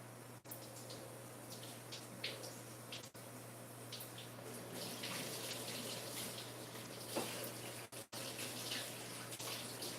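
Tap water runs steadily into a sink while a garlic press is rinsed under it, a constant close splashing gush with a low hum beneath and a few brief clinks and interruptions.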